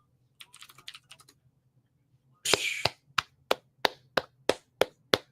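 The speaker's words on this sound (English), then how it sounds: "Got to give a round of applause." A short burst of clapping followed by a string of sharp, evenly spaced claps, fairly close, with some light tapping beforehand, after an MMA fight.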